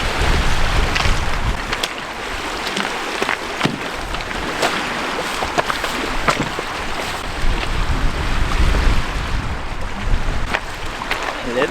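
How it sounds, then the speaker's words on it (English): Steady wind rushes and buffets across a lake, with water splashing and lapping close by against a canoe, and occasional sharper knocks over the constant noise. "Wind's picked up a little bit here"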